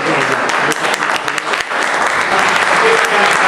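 Enthusiastic audience applause for child actors after a Rama Lila performance, loud and continuous clapping that swells briefly then carries on steadily.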